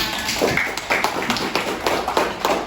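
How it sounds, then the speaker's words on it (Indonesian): A classroom of students claps together in an Indonesian lesson, a dense, steady patter of many hands lasting a few seconds, close and fairly loud with no talk over it. "tepuk tangan buat semuanya"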